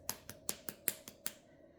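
A small bottle of gel nail polish is shaken in quick bursts, giving about seven sharp rattling clicks in an even rhythm, close and fairly quiet.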